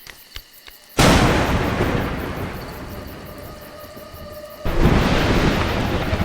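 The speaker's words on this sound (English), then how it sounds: "Mud, thunder and lightning are terrible opponents" A thunderclap and lightning in the video game A Juggler's Tale: a sudden loud crash that swells into a long rolling rumble, then a second surge of rumbling thunder, with no talking.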